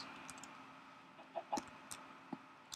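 Blocky farmyard chickens in the Minecraft video game give a few short, soft clucks spread across a quiet stretch, faint and somewhat distant with no talk over them.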